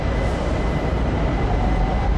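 A Bangkok skytrain runs at Chong Nonsi station with a steady, continuous rumble and a faint high whine throughout, heard alone and without pauses.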